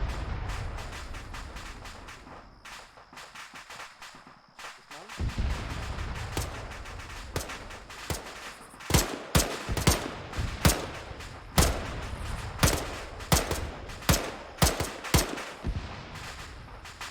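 Arma 3 gunfire on the Lingor campaign map: scattered shots at first, then a steady run of loud, evenly spaced gunshots and short bursts cracking out nearby, with faint voices underneath.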